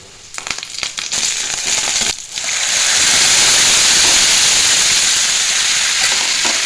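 Curry leaves drop into hot oil with a brief clatter, then burst into a loud, steady crackling sizzle that fills the pan at close range and holds without letting up.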